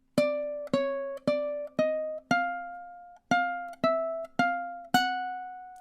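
Ukulele plucking measure 16 of a tune, nine evenly spaced plucked notes with bright ringing harmonics, each note decaying before the next, with one longer gap midway; close and clear with no voices.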